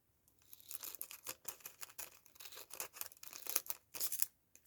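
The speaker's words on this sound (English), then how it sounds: "These scissors aren't very good at cutting." Scissors cutting and snipping through paper while making Christmas-tag book pages, a run of close, crisp crunchy snips and tearing rasps in irregular bursts, with no talking.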